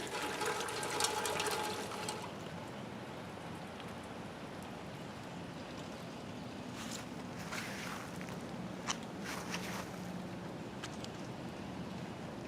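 Water trickles and flows through a catch basin drain on a patio, a faint, steady wash with a few small splashes and drips over the whole stretch.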